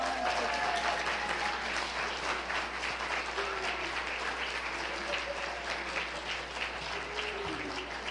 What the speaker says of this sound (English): Again, let's give a round of applause.